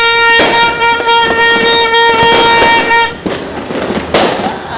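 Loud, dense crackling of a 1,000-round string of firecrackers at New Year popping in rapid succession, with a steady tone ringing over it before it thins out.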